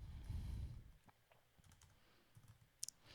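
Fingers type on a computer keyboard while entering a width parameter in Revit, a quiet run of soft, irregular key clicks after a brief low rumble, with a few sharper taps near the end.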